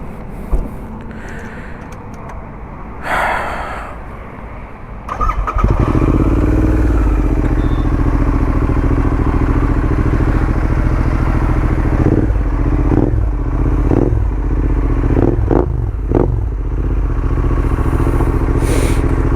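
Royal Enfield GT650 motorcycle fitted with a Classic-style dolphin exhaust. It cranks from cold around five seconds in after some quiet handling clatter, catches with a loud thump, then settles into a steady, close, rumbling idle marked by a few brief blips and knocks.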